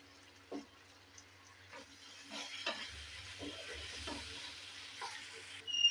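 Cornflour slurry hits a hot frying pan of chili paneer sauce, giving a soft, steady sizzle with stirring scrapes, fairly faint and close, with no talk.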